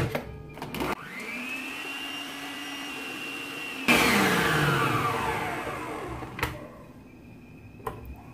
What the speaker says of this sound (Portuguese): eu vou colocar aqui na batedeira 5 claras e vou bater até ficar o ponto de neve